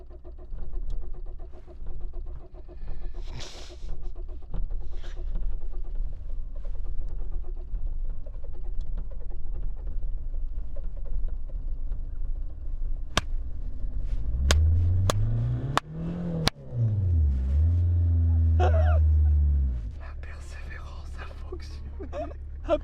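A car's starter motor cranks on and off without the engine catching, cranking sounds building to a loud whine and labored groans late on, with people talking quietly through most of it.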